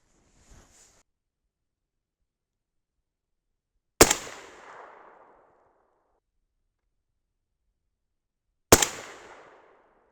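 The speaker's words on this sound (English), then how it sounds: "Let's shoot all of these through the same hole." Two sharp, loud 6.5 Grendel rifle shots firing 135gr Berger Classic Hunter bullets over 29.0 grains of powder, several seconds apart, each with a rolling echo tail, preceded by a faint brief click.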